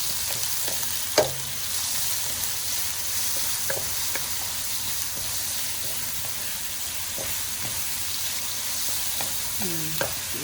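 Garlic and lemongrass fry in a pan for homemade Hmong egg rolls, giving a steady, close sizzle with occasional stirring scrapes and light clinks from a utensil, and no talking.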